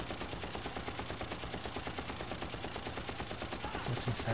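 Continuous rapid gunfire in the video game Far Cry, dense rattling automatic bursts at a constant level with faint heavier thumps near the end.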